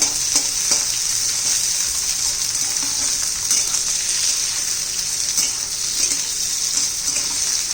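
Carrots and peas, with capsicum, sautéed in a pan give off a steady, loud, close sizzle, with stirring scrapes and small clicks running through it.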